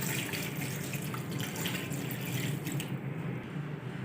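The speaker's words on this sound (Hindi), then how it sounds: "पानी ऐड करेंगे 2 गिलास।" Water is poured steadily into a pressure cooker of beef keema cooking with garlic, red chilli and salt, giving a continuous splashing rush that sounds close and fairly loud, with no talking.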